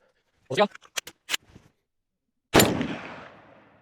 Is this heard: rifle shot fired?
yes